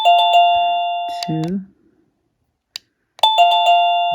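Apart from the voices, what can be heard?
wireless doorbell camera chime ringing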